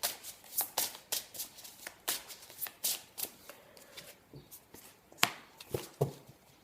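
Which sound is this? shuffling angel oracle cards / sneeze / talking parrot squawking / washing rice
shuffling angel oracle cards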